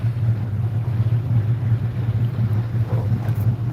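A 1954 Chris Craft boat cruising on Lake Minnetonka, its engine giving a steady low droning rumble under constant wind and water noise, close and fairly loud throughout.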